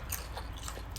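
Crunchy bites into fried dried fish that was steamed and then fried, several crisp bursts close to the mic over a low steady background hum, with no talking.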